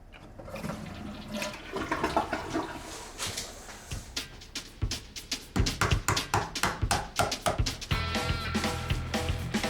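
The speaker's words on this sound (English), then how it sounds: "the less water we need to actually flush everything down" A home toilet flushes close by, with a loud rushing gurgle of water swirling and draining, followed by rhythmic sloshing pulses as the bowl empties and refills.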